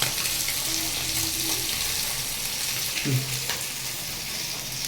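Steady oil sizzling under low heat as small chapila fish fry on a banana leaf, a continuous soft crackle of frying with a brief low hum and a faint clink partway through.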